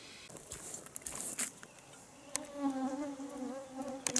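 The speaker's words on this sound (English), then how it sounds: "I had to deal with a lot of mosquitoes today." Mosquitoes buzz close by on a rainy Scandinavian hiking trek, a thin wavering whine rising and falling near the ear, with rustling and small taps around it and no talk.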